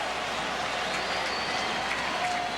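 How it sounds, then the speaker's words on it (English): A baseball crowd at a Cardinals–Astros game applauds and cheers in a steady, dense wash of clapping and crowd noise, with whistles rising faintly above it. "Crowd on its feet with the rally towels."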